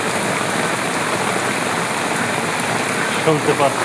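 Heavy rain drums on a car roof, a dense, loud, steady wash of patter heard from inside, with a few faint voice-like sounds near the end.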